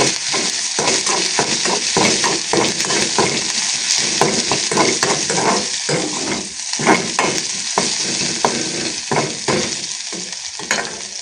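Garlic crackling and spluttering in hot oil, a loud dense sizzle broken by frequent sharp pops and stirring clatter throughout, with no voices.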